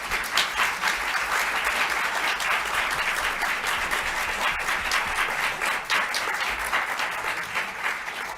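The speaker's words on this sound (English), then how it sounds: "One more round of applause, please." Sustained applause from an audience at a press conference announcing a nuclear fusion result, dense and even clapping filling the whole stretch, fairly loud and close, with no voices over it.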